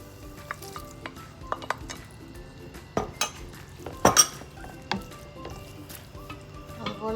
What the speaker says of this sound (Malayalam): ഞാനിനി ഇതിലേക്ക് അരിഞ്ഞു വെച്ചിരിക്കുന്ന ടൊമാറ്റോയും കൂടെ ആഡ് ചെയ്യുവാണ്